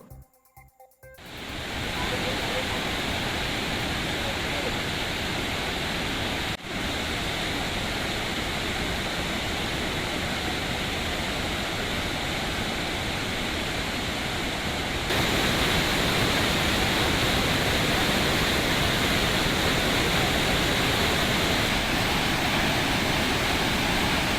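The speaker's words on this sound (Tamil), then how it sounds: "இந்த நீர்வரத்தால் ஒகேனக்கல் காவிரி ஆற்றில் உள்ள அருவிகளில் தண்ணீர் ஆர்ப்பரித்து கொட்டுகிறது." Water gushing over the Hogenakkal waterfalls on the Kaveri river, a dense, unbroken roar that starts abruptly and holds loud and steady throughout.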